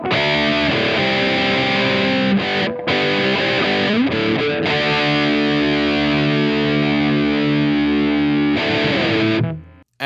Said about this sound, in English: here's what the Rat setting on the OD-20 sounds like